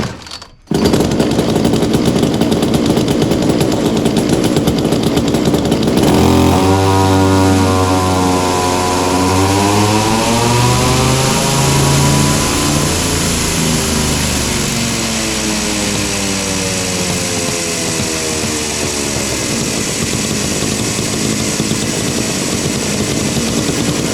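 A Poulan chainsaw runs at full throttle under load on a dyno, a loud steady high-pitched two-stroke scream with shifting pitch as the load changes, plus a rattle from a vibrating shield, after a brief startup burst.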